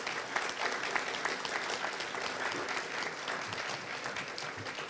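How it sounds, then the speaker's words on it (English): Steady applause from a seated audience for the finalist teams at a university business case competition in Hong Kong, dense and sustained at moderate level throughout. "let's give all our finalists today a big round of applause"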